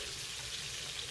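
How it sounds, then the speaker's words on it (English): Shrimp tamarind sauce boiling hard in a pot, a constant fizzing, bubbling hiss with low rumbling underneath, steady and close with no voices. "Look like my sauce is boiling really hard there."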